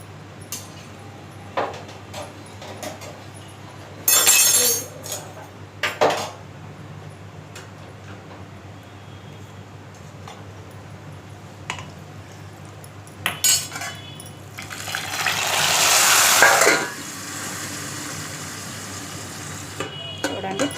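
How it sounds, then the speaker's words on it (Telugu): Tempering being added to drumstick leaf rasam and stirred, with short bursts of sizzling and spoon-on-pot scraping, then a longer, louder hiss near the end against a quiet kitchen background. "చూడండి తాలింపు ఇట్లా వేసుకున్నాము."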